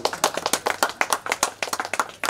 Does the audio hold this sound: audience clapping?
yes